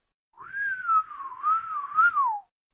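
A single person whistles a short, wavering melodic phrase, clear and close, lasting about two seconds in otherwise quiet surroundings.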